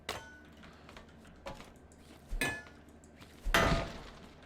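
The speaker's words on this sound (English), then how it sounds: "Let's get the hammer out. See if I can smash it in." In the video game Scrap Mechanic, a hammer strikes a trailer hitch three times, sharp metallic impacts spaced a second or so apart, the last one loudest, with faint ticking in between.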